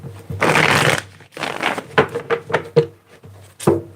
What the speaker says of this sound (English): Let me get one more good shuffle here.